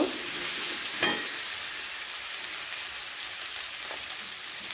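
Spices fry in a pan for an egg bhapa dish, giving a steady, even sizzle with a couple of soft clicks, close but fairly quiet.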